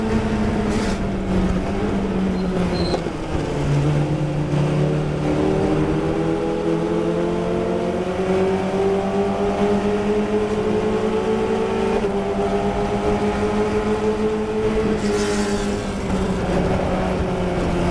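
A Formula Ford race car engine drones loud and close from the cockpit during a historic race in New Jersey, its pitch sagging and then climbing through long sustained pulls as the car works through shifts and corners.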